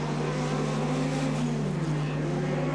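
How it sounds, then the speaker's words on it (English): A speedcar roars down the main straight of an Australian track, its engine a steady, sustained drone that holds level throughout with no pauses or talk. "as he comes down the main straight as Andrew Wright"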